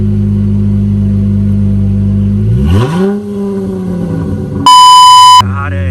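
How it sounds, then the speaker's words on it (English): A car engine with a Flowmaster 40 muffler exhaust idles with a deep steady rumble, then is revved once loud and close, the pitch rising and falling back, before a shrill electronic buzzer-like tone cuts in briefly. "But give it a couple revs."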